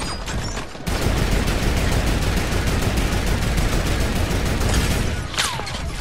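Rapid, loud gunfire from a Fortnite match bursts in after a brief quieter moment and keeps pounding almost continuously, with a sniper rifle shot and a whizzing streak near the end.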